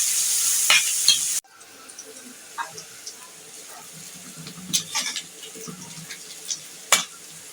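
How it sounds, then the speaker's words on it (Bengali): Onions lightly frying in oil in a pan, starting with a loud, dense sizzle for just over a second, then dropping to a quieter crackle broken by scattered spatula scrapes and clicks. "পেঁয়াজগুলোকে হালকা ভেজে নেব।"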